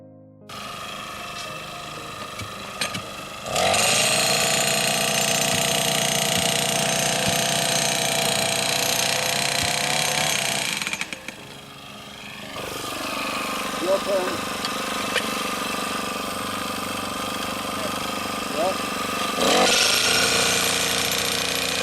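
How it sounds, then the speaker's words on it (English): A noisy whacker-packer post driver driving steel fence pickets on a farm, a loud steady engine drone with rapid pounding that runs for several seconds, stops briefly, then resumes; faint talk may sit underneath. "these noisy whacker-packers certainly make a big difference when you're driving in steel pickets"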